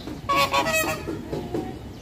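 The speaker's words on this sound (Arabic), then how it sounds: "ده بقى طائر الفلامينجو" Flamingos at the Emirates zoo give loud, honking goose-like calls in a quick burst of several notes near the start, then fainter calls trail off against a busy outdoor background.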